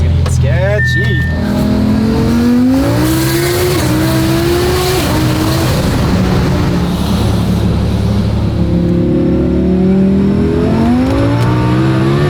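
A 2,000 hp rear-wheel-drive car accelerates hard, its engine climbing through several rising revs with tire squeal, loud and close, while people speak over it.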